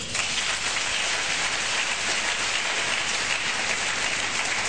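A church congregation breaks into dense, sustained applause, a loud, even wash of many hands clapping together.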